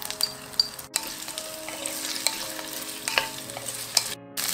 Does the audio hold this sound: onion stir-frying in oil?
yes